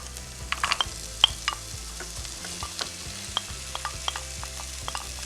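Chickpeas and green beans fry in a pan with thyme, scallion and onions, a steady soft sizzle broken by scraping and clinking as they are stirred, close by and with no voices.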